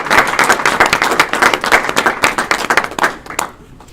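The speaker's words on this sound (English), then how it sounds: "Give him a round of applause." Audience at a school board meeting claps for a coach honored as National Coach of the Year, a dense burst of hand claps that thins out and fades toward the end.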